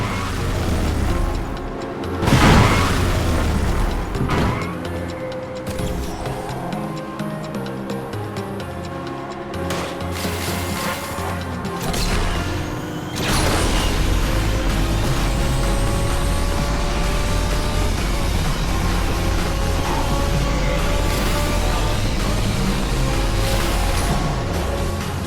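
Asphalt 8 racing game played on an Android TV box, with roaring car engines, whooshing speed and several booming crash impacts layered over a busy, continuous game soundtrack.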